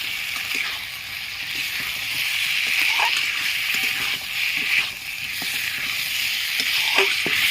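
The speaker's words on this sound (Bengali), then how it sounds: "আমি এখন ভেজে রাখা এঁচড়গুলো দিয়ে দিচ্ছি চিড়ে রাখা দুটো কাঁচা লঙ্কা ভালো করে কষিয়ে নেবো" Fried jackfruit pieces and split green chillies sautéing in hot oil, a steady close sizzle and crackle with faint stirring scrapes throughout, no talking.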